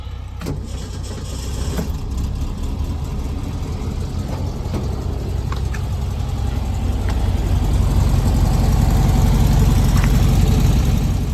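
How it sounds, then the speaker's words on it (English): A vintage Volkswagen engine fires up and settles into a steady, close idle, its rumble holding loud and even, with a few light clicks near the start. "I love it every morning when this thing starts up as easy as it does."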